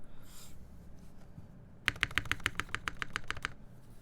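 Typing on a TypeMachina TGR Jane v1.5 mechanical keyboard: a quick run of about a dozen crisp, evenly spaced keystrokes, close and clear, following a quieter stretch with faint background noise.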